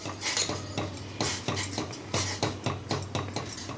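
A spoon stirs ground cumin, coriander and pepper into hibiscus tea in a pot, giving a quick series of close metallic clinks and scrapes against the vessel, evenly spaced through the clip with no talking.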